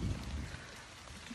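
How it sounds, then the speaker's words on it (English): Steady outdoor rain falls as a dense, even hiss with soft low rumble underneath, continuous and moderately faint throughout. "I didn't even know it was gonna rain."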